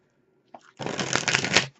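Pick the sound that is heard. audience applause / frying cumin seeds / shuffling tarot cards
shuffling tarot cards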